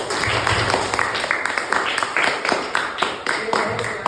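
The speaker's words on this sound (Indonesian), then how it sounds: "Sekali lagi kita berikan tepuk tangan yang meriah." Classroom students clapping for a group of peers at the front of the lesson, a brisk, uneven patter of hands, fairly close and lively, with some voices mixed in beneath.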